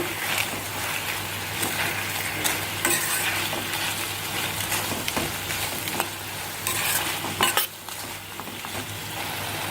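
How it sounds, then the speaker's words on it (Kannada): Dried chillies, tomato, onion and turmeric fry for chutney in a pan, giving a steady, close sizzle with occasional stirring scrapes and utensil clinks throughout, and no voices. "ಟೊಮೊಟೊ ಫುಲ್ಲು ಸ್ಮ್ಯಾಶ್ ಆಗಬೇಕು ಅಲ್ಲಿವರೆಗೆ ಚೆನ್ನಾಗಿ ಫ್ರೈ ಮಾಡಬೇಕು"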